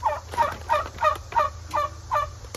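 A domestic turkey gobbles in a rapid series of about six throaty bursts at a steady rhythm, close and clear over a low rumble, just before being butchered at home.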